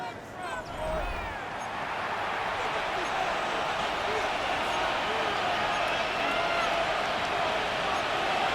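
A stadium crowd in the Madden 26 football game roars steadily during an NFC Championship playoff game, a dense, sustained cheer that swells slightly and stays loud throughout, with game commentary voices running underneath.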